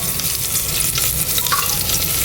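Onions frying in a pan for a keto mutton biryani as they soften and take on colour, a steady loud sizzle with scraping stir strokes running throughout, no voices.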